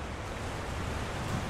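Steady, unbroken rush of a waterfall in Elden Ring: Shadow of the Erdtree, a dense wash of falling water filling the whole moment with no voices over it.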